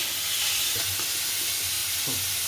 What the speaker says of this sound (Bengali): তারপরে নাড়তে থাকুন